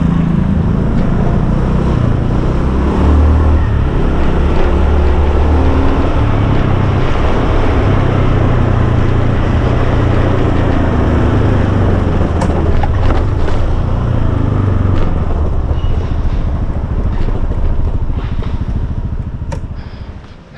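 A car drives through quiet, pandemic-hit Koh Samui toward the beach, its engine and road noise forming a loud, steady rumble with wind for the whole stretch, easing off only in the final second.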